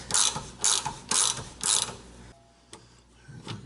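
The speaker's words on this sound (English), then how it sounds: "So I have a ratchet wrench on it and a regular wrench on the top, and that's how I'm going to remove these." A ratchet wrench loosening sway bar bolts on a Dodge SRT-4, four quick close clicking bursts followed by a few fainter, sparser clicks.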